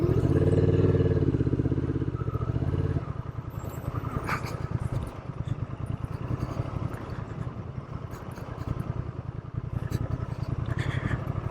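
A Honda Transalp motorcycle on the move, its engine pulsing in a steady, fast rumble with road and wind noise, after a louder burst of throttle at the start.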